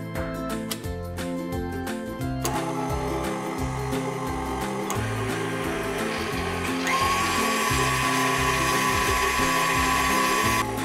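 An electric mixer creams softened butter and vanilla for watermelon cupcakes, a steady loud mechanical whir with rattling beater clatter throughout, shifting to a higher-pitched tone near the end.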